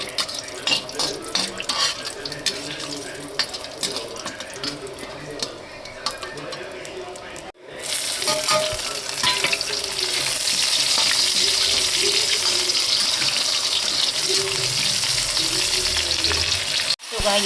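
Ivy gourd (kundru) fries in a pan with a lightly oiled, steady sizzle up close, stirred and scraped at intervals, then the hiss grows louder and denser after a short break midway.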